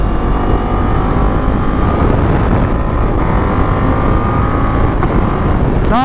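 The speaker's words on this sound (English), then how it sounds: "Habang pataas ng pataas yung RPM mo, doon siya lalong lumalakas." A Ducati Multistrada motorcycle engine, a loud, continuous close-up roar with buffeting wind noise, holding steady before a short rising rev near the end.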